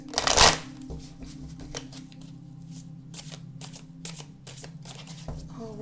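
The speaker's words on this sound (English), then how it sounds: "just continuing to shuffle here for the sign of Sagittarius" Tarot cards are shuffled by hand at close range, a loud riffle burst at the start followed by softer repeated shuffling and card flicks, quiet and steady throughout.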